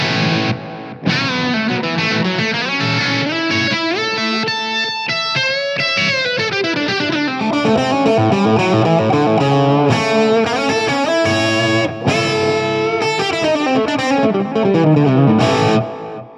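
A loud, heavily distorted electric guitar through a TC Electronic Flashback delay pedal in a Blackstar portable amp's effects loop plays sustained chords and melodic lines, with echoing repeats trailing behind each phrase, continuous throughout.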